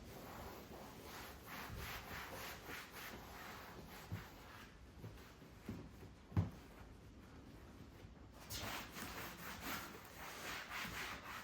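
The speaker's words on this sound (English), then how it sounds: "Then I'll take a clean rag and just wipe off all the excess." A clean rag wipes excess product off revitalized golf cart plastic trim, a steady soft rubbing swish in repeated strokes, close and moderately quiet with a few brief knocks.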